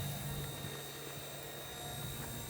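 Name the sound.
XK K124 EC145 RC helicopter flying outside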